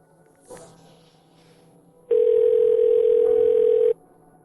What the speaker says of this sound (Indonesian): Ayan, aku harus telepon dulu.